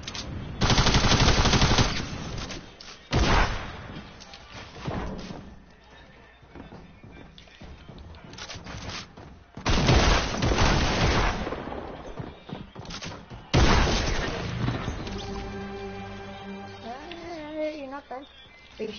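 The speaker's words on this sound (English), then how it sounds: "I'm gonna use the combat shotgun" Combat shotgun gunfire in a video game arrives in loud bursts separated by quieter stretches, with people talking throughout.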